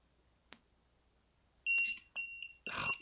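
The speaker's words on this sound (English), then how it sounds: "I hate when the AC on this multimeter beeps like that" A multimeter set to AC mode gives three sharp, shrill electronic beeps in a row, each lasting a fraction of a second, after a faint click in an otherwise quiet room.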